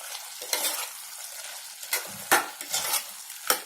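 Red pumpkin bhaji being stirred in a pan after grated coconut and coriander go in, with soft sizzling under a handful of sharp spoon scrapes and taps against the pan, close up, no voices.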